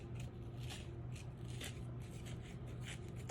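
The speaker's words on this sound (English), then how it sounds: "It's ripping pretty nicely." Paper rips away during a file folder craft project, a quiet run of short scratchy tearing bursts in uneven rhythm, close up with no talking.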